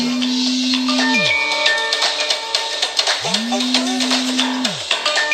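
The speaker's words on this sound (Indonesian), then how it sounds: "Ada telepon masuk tadi." An incoming call rings on a phone: two long, low droning ringtone notes, each swelling in and sliding away, over faint background clatter.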